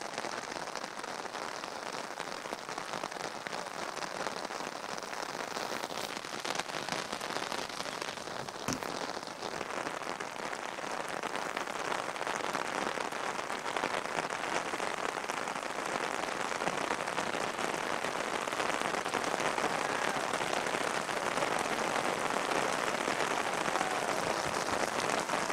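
Heavy rain pours steadily over an outdoor football pitch at Giovinazzo, a dense continuous hiss of drops on surfaces lasting the whole stretch with no talk.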